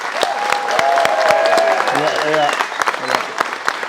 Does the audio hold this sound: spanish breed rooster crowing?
no